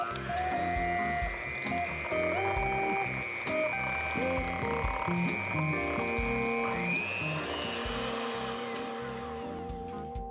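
Electric mixer beaters whirring through organic cane sugar, a loud continuous motor drone with shifting pitch and grinding rattle throughout, close and alone.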